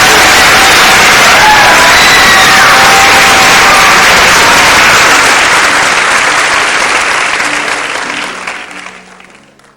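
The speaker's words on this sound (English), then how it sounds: "Let's give all of our candidates one last round of applause." Loud, dense applause with scattered cheers from a pageant audience for the 2003 Miss Strassenfest candidates, sustained for several seconds before fading out toward the end.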